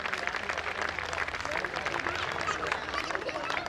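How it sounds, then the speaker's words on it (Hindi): A live audience at a comic poetry gathering in Faridabad claps continuously in dense, even applause that fills the whole stretch at steady loudness. "मेरे सम्मान के लिए भी ताली बजा दीजिए"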